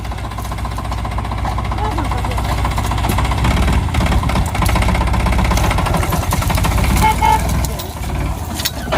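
A farm tractor engine runs steadily and loud throughout, a dense low mechanical chug with knocking rhythm, recorded close by in a mustard-harvest field setting.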